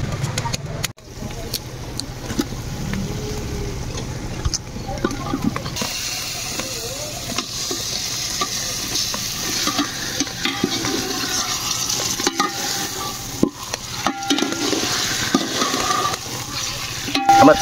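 Chicken pieces sizzle in hot spiced masala for a biryani, a continuous frying hiss with scraping stirs of a spoon against the pot, close up and steady.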